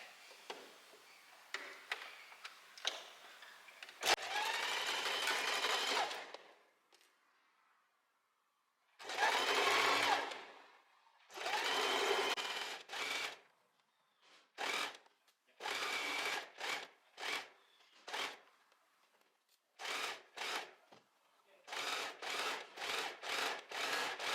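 A sewing machine stitches an off-shoulder sweater shirt in bursts of rapid, rhythmic whirring, some long runs and many short spurts separated by silent pauses, close and clear with no talking.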